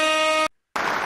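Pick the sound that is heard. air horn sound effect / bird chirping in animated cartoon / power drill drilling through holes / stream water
air horn sound effect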